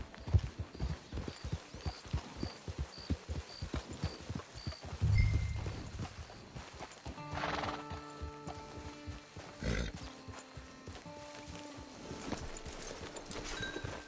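A horse trots along in the Red Dead Redemption Online video game with a steady clip-clop of hooves, while game music and ambient sounds swell and fade over it.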